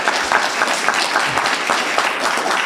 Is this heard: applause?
yes